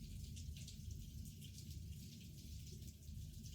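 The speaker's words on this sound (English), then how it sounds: "it's raining its ass off right now" Heavy rain falling outside in the early morning, a faint, steady, broadband wash of rainfall with a low rumbling undertone, continuous and distant, with no voices.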